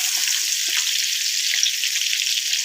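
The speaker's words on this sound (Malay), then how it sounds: "Goreng." Chopped village chili and spices frying in hot oil in a pan for Malaysian fried rice, a steady close sizzle with faint crackles and no voices.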